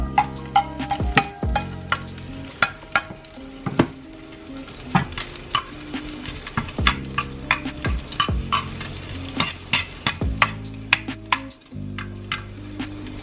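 Garlic sautés in a hot pan while making ginataang gulay, with a constant crackling sizzle and repeated sharp clacks of a utensil stirring against the pan, close and fairly loud, with no talking.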